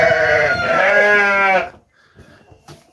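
Sheep ewes on a farm give one loud, close, wavering bleat lasting over a second, followed by quieter farmyard noise with faint distant calls.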